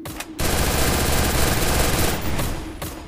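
Rapid automatic gunfire from a shooting video game blasts in a loud, continuous burst for a couple of seconds after a short lead-in, then cuts briefly and resumes, no voices over it.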